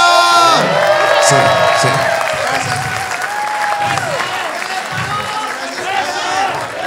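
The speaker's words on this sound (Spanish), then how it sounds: "el aplauso para el cumpleañero." A studio audience at a comedy roast applauds and cheers for a birthday guest, with loud continuous clapping, whoops and excited voices, and people talking over the crowd noise.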